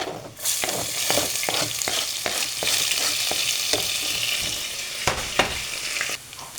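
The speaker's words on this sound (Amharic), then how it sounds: "ከዛም በመቀጠል ሽንኩርት እናቁላላለን ማለት ነው።" Onions sautéing in hot oil make a steady bright sizzle, with repeated scraping and stirring strokes from a utensil against the pan throughout, close and fairly loud, with no talking.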